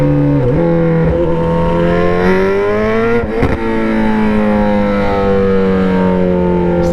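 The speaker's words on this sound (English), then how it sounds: "this bike is loud" A tuned Suzuki GSX-S 750 naked motorcycle screams loud and close, its engine note climbing steadily in pitch through the gears with a brief dip and shift midway, sustained without speech.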